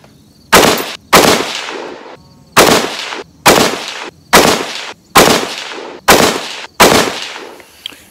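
A Bear Creek Arsenal .308 AR10 rifle fires Federal hunting rounds outdoors, eight loud, close, booming shots spaced roughly evenly, each trailing off in a short echo, with no talking.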